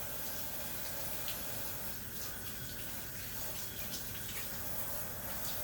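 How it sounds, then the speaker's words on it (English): Produce being scrubbed with dish soap under a running tap, a steady hiss of flowing water over the sink with faint rubbing noises mixed in. "I'm actually using dish soap, and I'm actually scrubbing the whole thing"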